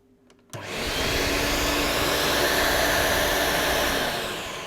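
A refurbished Electrolux Z1010 mini vacuum cleaner switches on after a brief quiet moment and runs with a steady, loud, close whirring roar that holds even, easing slightly at the end.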